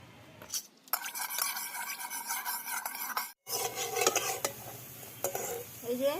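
Banana flower dhoka pieces frying in mustard oil in a wok, with scraping, stirring and rasping of a utensil over a crackling sizzle, interrupted by a brief silent gap.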